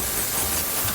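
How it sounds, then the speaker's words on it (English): Steam hisses steadily from a cleaner aimed at a bespoke shoe at a tailor's shop, a dense, loud, unbroken spray-like rush lasting about a second. "Then what I do is we do a steam cleaning."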